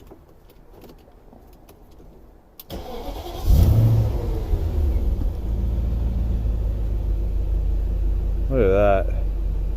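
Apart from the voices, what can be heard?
2001 BMW X5 4.4l engine starting and revving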